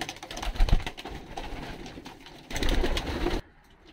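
Pigeons coo and rustle inside a breeding loft, with soft, close calls and fluttering over a low background before the sound drops away near the end.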